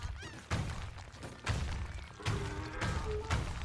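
Concrete donkey weapon strikes in Worms Revolution, a game with heavy repeated thuds and crashes landing roughly every second, loud and close with game effects between them.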